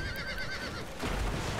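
Horse whinny from the video game Alicia Online, a high wavering neigh over a steady game background, followed by a burst of denser rumbling that may be galloping hooves, all fairly loud with no talk.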